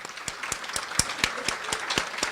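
An audience at a colorectal cancer advocacy conference claps, giving a brief run of evenly spaced, fairly sharp claps at moderate volume.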